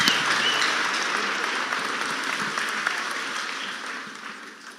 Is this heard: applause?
yes